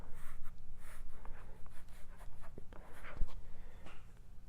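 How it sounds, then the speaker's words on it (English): A pen scratches and scuffs across a leather clipboard surface in uneven, close strokes, soft and faint, with one small tap partway through. "when you're writing on this type of leather, it has a pull up to it"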